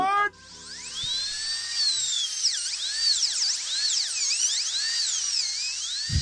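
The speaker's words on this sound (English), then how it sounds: "That is, of course, the famous raw dog sound effect." A high, whining drill-like tone bends and swoops continuously for about six seconds, loud and steady, after a short burst of other sound at the start.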